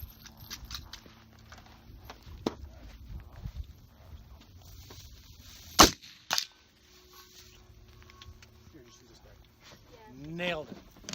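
A Swedish M/1896 Mauser rifle fires at a distant silhouette target outdoors: one sharp, loud crack stands out midway, followed by a short echo, with quiet talking and small handling sounds around it.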